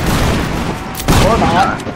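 A musket volley fires in a multiplayer line-battle video game: one loud, sharp burst of massed gunfire breaks over a busy, noisy background in the middle of the short stretch.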